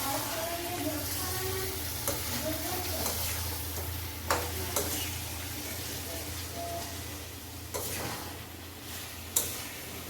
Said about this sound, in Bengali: আরও 1 মিনিট কষলে হয়ে যাবে মশলাটা কষা